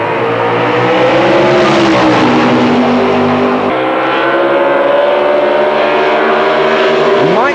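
Drag racing cars launch down the strip on the green light, loud engines roaring and revving continuously with rising and falling pitch, close and dominant with no talk over it.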